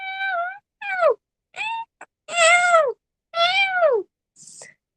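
A cat meows six times in a row, clear and close, each call a rising then falling harmonic cry of about half a second, with short silences between and a brief faint sixth call at the end.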